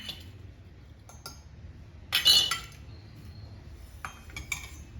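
Ingredients such as garlic clatter into a mixer grinder jar in a home kitchen with a few sharp clinks and knocks, one louder cluster in the middle, and short ticks at the start and end against a quiet background.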